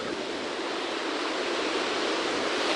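Ocean surf breaks and washes in a steady, loud rush of white noise on a beach where bass are fished with lures, with no voices.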